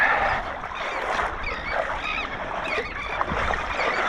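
Geese or similar waterfowl honk repeatedly in a noisy chorus around a small fishing boat on the water, their calls rising over steady wind and water noise.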